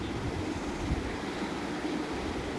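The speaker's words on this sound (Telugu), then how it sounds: "ఎంత పెద్ద బ్రిడ్జ్ దాని కింద నుంచి వాటర్ వెళ్తుంటే" Steady broadband rushing of water flowing beneath a large bridge at Nagarjuna Sagar dam, a continuous wash with no distinct events and no voices.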